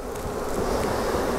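Honey bees buzz steadily at a hive during a swarming-season inspection, a dense, continuous drone close by with no voices over it.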